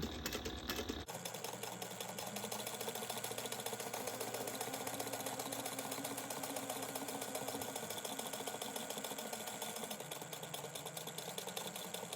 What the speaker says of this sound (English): you're just gonna sew all the layers together